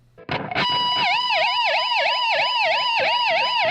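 An electric guitar wails in a rising and falling siren pattern, the whammy bar bending the note up and down in steady, loud cycles that mimic a police siren.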